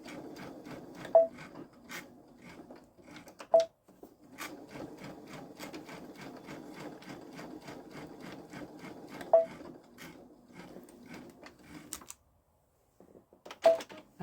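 A Babylock Solaris 3 sewing machine quilts around a tendril on a pumpkin pillow front, a close rapid mechanical stitching rhythm broken by a few sharp clicks and a short pause near the end.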